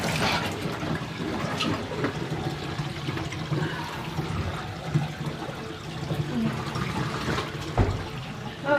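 Continuous rushing, gurgling water from a portable washing machine draining before its rinse cycle, steady and close, with occasional sloshes and knocks.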